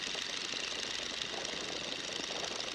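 A light aircraft engine throttled back to about 1,500 RPM drones as a steady, dense roar in the cockpit, unbroken and even from start to finish.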